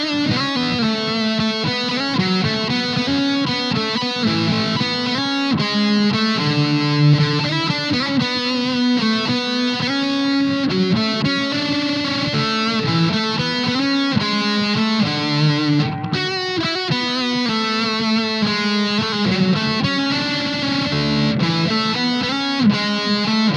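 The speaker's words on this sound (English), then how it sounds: "Right now I've got the Invader Distortion, the Overdrive, and the delay all coming together for a silky lead" Electric guitar runs through Maestro Invader Distortion, Overdrive and delay pedals in a smooth, sustained lead. Dense, saturated notes ring out steadily and loud for the whole stretch, with no talk.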